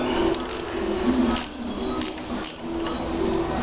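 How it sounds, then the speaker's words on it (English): A ratchet wrench backs off a jam nut on a Troy-Bilt transmission during teardown, giving a few sharp, close clicking bursts spaced over several seconds against a low steady background hum. "Back off this jam nut,"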